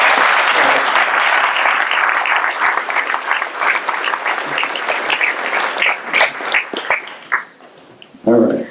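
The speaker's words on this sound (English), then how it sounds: "give them, I know we're probably tired of giving applause" Graduation ceremony audience applause, a dense roomful of clapping that swells, thins out toward the end and fades into brief talk.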